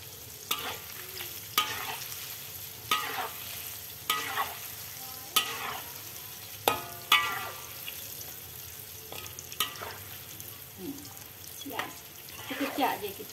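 Battered broccoli pieces sizzle and crackle in hot oil, with repeated stirring scrapes at intervals, close up and steady throughout.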